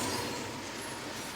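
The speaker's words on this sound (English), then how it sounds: "A train is coming." A train approaching a railroad crossing, heard as a steady, loud broadband rumble and rush of rolling cars with no voices.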